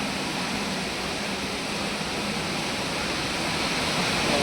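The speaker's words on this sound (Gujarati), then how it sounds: "આ કુંડી છે, આવી રીતના આમાં ધોલાઈ થઈને વાં નીકળે." Water rushes steadily through a textile washing tank, producing a dense, continuous hiss of flow that stays close and even throughout.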